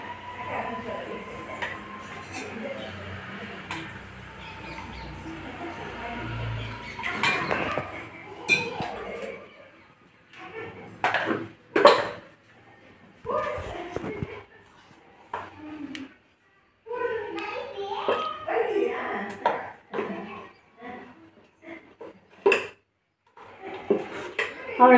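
Kalyana murungai leaf paste is stirred into dosa batter in a metal vessel, with a spoon clinking and scraping against the sides in irregular bursts between pauses, close by, while a person talks at times.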